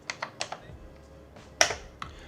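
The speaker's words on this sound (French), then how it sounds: "sur certains forums, j'ai vu qu'il fallait taper la commande CAT" Keys clacking on an Amstrad CPC464 home computer keyboard, a handful of separate close presses in an irregular rhythm with a harder final stroke, no voices.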